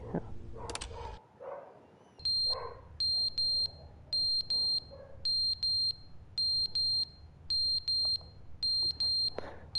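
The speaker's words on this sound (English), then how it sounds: "The fire alarm." Fire alarm in the video game The Stanley Parable sounds in repeated shrill beeping bursts, evenly spaced and loud, after a brief stretch of muffled voices and noise at the start.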